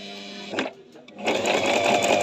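A Singer digital sewing machine, model 1408, stitches close by with a fast, steady mechanical whir that follows a brief start-and-stop of the needle.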